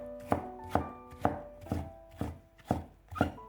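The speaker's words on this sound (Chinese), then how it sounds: "最后改刀切成冬瓜丝" A knife chops winter melon into thin shreds on a cutting board, with seven crisp, evenly spaced strikes close by and a faint tonal background underneath.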